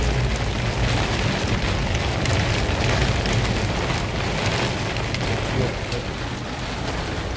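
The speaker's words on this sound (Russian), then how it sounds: "Дождь идет не на шутку," Heavy summer rain pours down in a steady, loud, unbroken hiss over open country near a tractor, with no voices heard.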